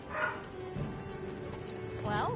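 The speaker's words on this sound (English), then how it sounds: "Now he's barking again because my mom just got home." Beagle barking indoors as someone arrives home, with a few muffled barks and a whine-like yelp over background game sound and faint voices.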